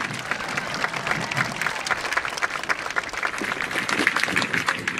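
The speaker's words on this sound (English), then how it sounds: "You can clap for that." A high school graduation audience applauding, a broad, steady wash of many hands clapping at moderate distance, holding for the whole stretch with faint crowd murmur underneath.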